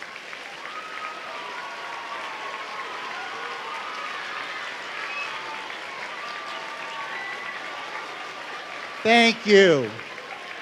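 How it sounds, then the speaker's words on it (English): Sustained applause rises from a school audience honoring teachers in a middle school gathering, steady clapping that carries to the end, where someone briefly speaks close to the microphone. "let's give them a round of applause."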